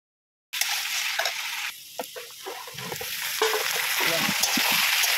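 Vegetables cook in a pan, giving a steady close sizzle and frying hiss with occasional stirring clatter, continuous from start to finish with no talk.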